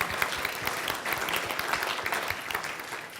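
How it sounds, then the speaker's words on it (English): Steady audience applause fills the room throughout, a dense wash of many hands clapping at fairly even loudness, with no talk over it. "round of applause for that"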